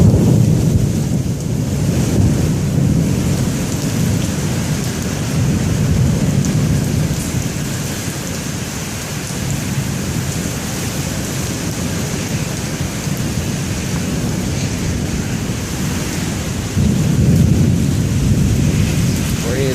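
Severe thunderstorm in Dubuque, Iowa: steady heavy rain hisses on surfaces while low rumbling thunder rolls beneath, swelling near the start and again near the end, continuous and close.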